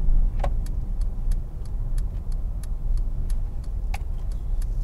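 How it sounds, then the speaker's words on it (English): Inside a car on a driving lesson, the engine hum rises steadily as it speeds up, a low rumbling drone with faint regular ticking, like an indicator, over the top and no one speaking. "So just listen to the engine as we speed up."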